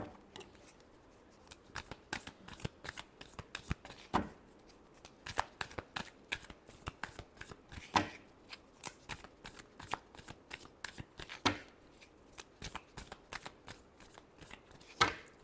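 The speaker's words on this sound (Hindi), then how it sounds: "last shuffle" Tarot cards are shuffled close by and quietly, a rapid run of crisp clicks and slaps with periodic louder snaps as the deck is cut and squared.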